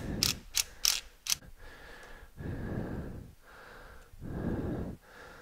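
A ratchet works a nut loose on a VW Beetle with a 2.5L engine: four sharp close clicking bursts at the start, then three longer, broader grinding stretches of ratcheting, loud and near with no talk.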